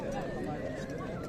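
A horse whinnies at a Kyrgyz livestock market, a short strained call over a busy crowd of voices and bargaining chatter.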